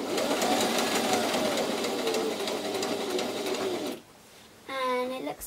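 A sewing machine runs steadily at close range with a whirring hum while stitching a hair scrunchie, then stops abruptly and falls quiet, followed by a brief higher-pitched mechanical whine near the end.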